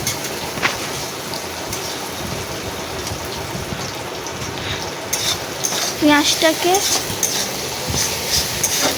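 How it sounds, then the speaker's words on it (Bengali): Onions sizzle and fry in a pan while being stirred, turning red-brown, with a steady close hiss, a few spoon clinks and scrapes against the pan, and a voice talking over it. "পেঁয়াজটাকে আমি লাল করে ভাজবো একটু।"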